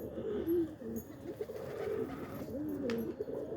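Pigeons coo steadily in a loft in Boston early on a Sunday morning, low throaty rolling calls overlapping one after another at close range, with no one talking.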